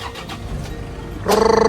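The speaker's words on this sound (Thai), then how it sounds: "สตาร์ทเลยนะต้องนิวนิดนึง" A 2002 Toyota Tiger 2.5 D4D turbo diesel pickup cranks briefly and catches near the end, its engine settling into a close, rhythmic diesel idle.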